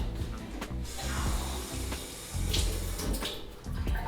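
Tap water runs steadily into a kitchen sink while hands are dampened before shaping protein balls, a continuous close splashing with a few small clicks and knocks.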